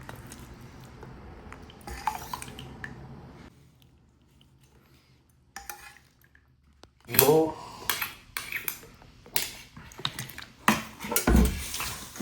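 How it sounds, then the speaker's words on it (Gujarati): At home, rice, dhokli and rotli are served onto a plate: metal spoons scrape and clink against steel dishes, quiet at first and then louder and more frequent, with soft talk now and then. "ચલો તને હવે હું મારી પ્લેટ રેડી કરી દઉં"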